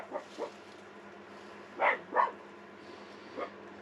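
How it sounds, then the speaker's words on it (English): Dogs bark at a campsite: a few faint, distant yaps, then two louder barks close together, then one more soft bark, all over quiet background hum. "Dogs are annoying all the neighbours as usual."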